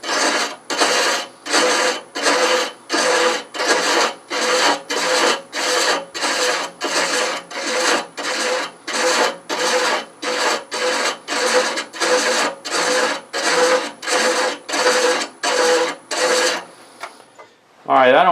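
Thread chasing by hand on a lathe turning at 330, a steady series of rasping scrapes in even back-and-forth strokes, loud and close, about twenty passes before it stops.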